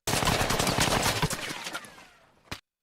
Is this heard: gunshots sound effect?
yes